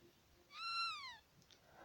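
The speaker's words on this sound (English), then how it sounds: "And there's Chrono's cat" A single rising-then-falling meow from a cat in the video game Chrono Trigger, faint over a quiet background hiss.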